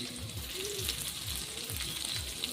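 Ginger garlic paste fries in a pan with a steady close sizzle, broken by soft rhythmic scraping as it is stirred.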